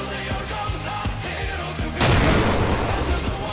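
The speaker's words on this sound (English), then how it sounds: "mortars over here" Mortar fire in the World War II shooter Darkest Hour: a steady rumble of distant battle with scattered thumps, then a loud, broad blast that keeps the din heavier for the rest of the moment.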